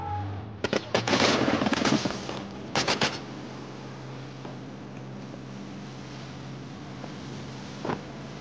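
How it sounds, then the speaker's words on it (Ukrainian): Boats in a sea battle off Crimea return fire with all available weapons: two loud clusters of rapid gunfire bursts, then quieter open-air noise with a faint single crack near the end. "Наші бійці відкривають вогонь у відповідь з усього наявного озброєння."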